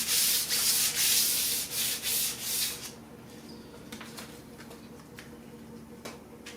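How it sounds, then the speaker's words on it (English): Sanding on a wooden floating shelf, a run of loud, rhythmic rubbing strokes for the first three seconds, then quieter scattered scuffs and light taps. "We're getting quite a bit of scuffing up here"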